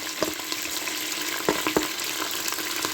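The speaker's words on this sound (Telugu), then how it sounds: "సో ఇప్పుడు నేను ఉల్లిపాయలు వేసేస్తున్నాను." Onions frying in a pan with masala for pudina rice, a steady hiss of sizzling oil with a few sharp clicks of stirring, close and continuous with no talk.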